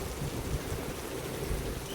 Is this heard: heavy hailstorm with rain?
yes